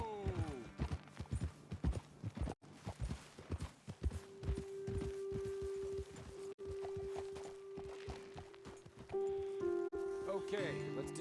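Horses walking in the video game Red Dead Redemption 2, steady hoof clip-clops on the ground with a rhythmic gait, close and clear, joined by rustling and a soft tonal drone, and voices can be heard at times.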